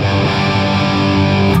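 An overdriven electric guitar plays through an amp captured with a TLM condenser microphone, giving a duller, darker tone; a continuous sustained chord rings close and loud for under two seconds, ending abruptly.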